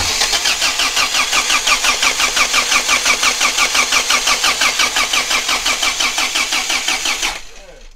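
A rock crawler engine cranks with a rhythmic starter churn for several seconds, loud and close, then cuts off abruptly at the end without catching into a steady run.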